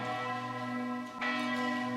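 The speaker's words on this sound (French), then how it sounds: "Les cloches nous rappellent à l'ordre." Church bells ring at the Chapel of the Apparitions in Fátima, rich sustained tones layered over one another and sounding continuously and steadily, with no voices.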